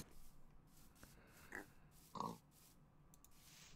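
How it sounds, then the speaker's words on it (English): Minecraft pigs give two short, quiet oinks and grunts about half a second apart against a soft, hushed game background. "I'm slaughtering pigs like crazy"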